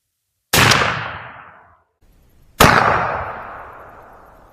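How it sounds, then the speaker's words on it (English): Two loud shotgun blasts from Remington Express XLR #4 shot game loads, fired about two seconds apart, each a sharp crack that rolls off into a long fading echo outdoors. "we're going to shoot these Remington Express number 4s at it"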